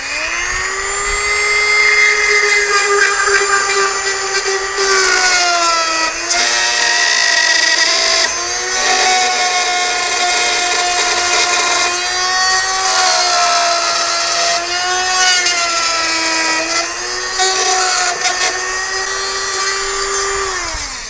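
A Dremel rotary tool in a precision router base routes an inlay along a template, giving a loud, sustained high-pitched whine that dips and rises in pitch as the bit loads and frees up in the wood.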